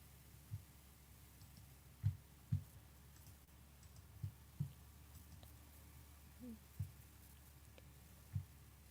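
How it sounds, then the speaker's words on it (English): Quiet, scattered clicks of a computer keyboard being typed on while chatting during a watch party, with irregular single taps spread over a faint steady background hum. "I just tried typing in the chat."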